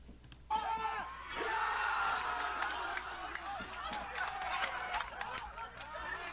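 Amateur district-league football players and fans cheer and yell together after a goal, a loud sustained crowd roar with overlapping shouts and chatter that swells and stays dense throughout.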